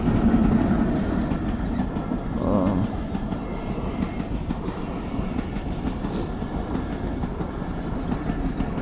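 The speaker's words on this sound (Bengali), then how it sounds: "এই যে হচ্ছে আপনার ট্রেন।" A train in Gopalganj, Bangladesh rolls past close by on the railway line, its steady wheel rumble and rhythmic clatter loud throughout, with no voices.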